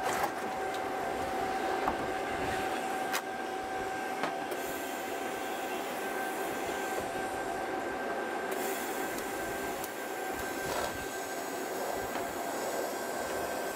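A TIG welder runs in a workshop with a continuous, even buzzing hiss and steady tonal hum, held at a constant level throughout without any talk.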